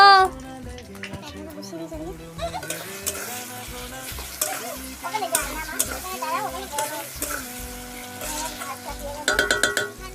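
Potatoes fry with cumin seeds in a home kitchen pan, a steady sizzle with stirring scrapes running throughout, with someone talking over it.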